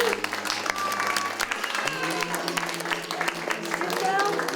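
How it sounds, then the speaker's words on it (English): An audience claps steadily after a puppet show of The Emperor and the Nightingale, a dense, even patter of applause with a voice speaking over it. "A big round of applause for you."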